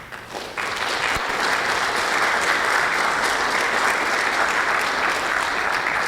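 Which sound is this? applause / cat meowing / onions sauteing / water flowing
applause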